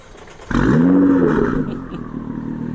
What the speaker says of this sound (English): We're gonna hear the exhaust of this car in 3, 2, 1, let's go.